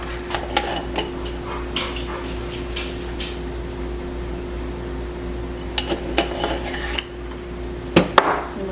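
A spoon clinks and scrapes against a metal pot while stirring home-cooked food, in scattered irregular taps over a steady hum of a kitchen fan.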